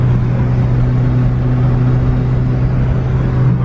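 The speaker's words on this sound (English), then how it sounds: "This exhaust is pretty loud." A loud, steady Honda car exhaust drones with a deep low rumble, a continuous engine note held close by with no talking.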